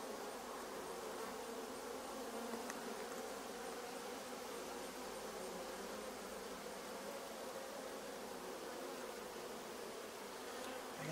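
Honeybees at an open hive give a steady, dense buzz that fills the whole stretch at an even loudness, with no talk over it.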